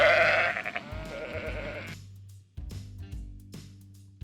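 Sheep bleat in a loud, wavering cry that fades out, followed by a few fainter, shorter calls from livestock.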